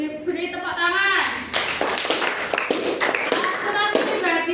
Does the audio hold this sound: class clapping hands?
yes